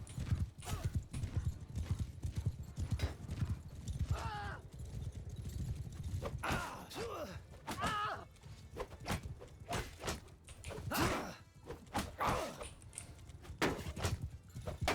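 Rapid horse hoofbeats from Mount & Blade II: Bannerlord clatter close and loud throughout, a steady galloping rhythm with occasional thuds and a faint neigh.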